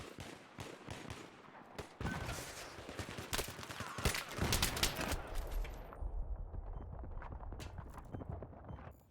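Rapid blasts from a semi-auto shotgun with an extended magazine in a video game, loud repeated shots in a dense cluster, followed by lower rumbling and scattered clatter.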